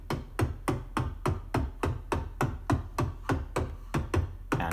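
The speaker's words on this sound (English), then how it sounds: "Whereas a straight beat would sound like this." Straight beat from an AE Modular synthesizer patch, evenly spaced short percussive thumps repeating steadily about three times per second over a low constant hum, close and clear with no voices.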